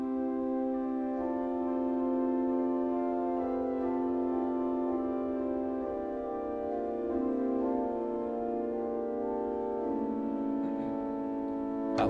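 Diapason stops dating from 1666 on the Gloucester Cathedral organ, sustaining soft, pure chords that shift slowly in a resonant cathedral space, steady and moderately quiet with no voices.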